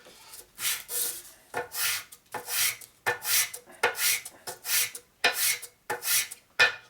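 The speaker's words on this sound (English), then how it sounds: "so that needs a lot of sanding" Sandpaper is scraped by hand across a chromed part from a 1961 Harley Sportster XLCH in about a dozen steady, rhythmic back-and-forth strokes, close and rasping, with no talk.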